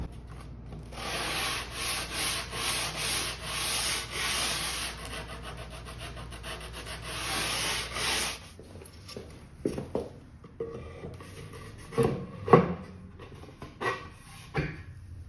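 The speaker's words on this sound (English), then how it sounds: "going to sand the edges and the corners with 120. On one of these little handy dandy sanding blocks" A 120-grit sanding block rubs along wooden edges and corners in steady, continuous strokes for about eight seconds, then stops, leaving scattered handling knocks and scrapes.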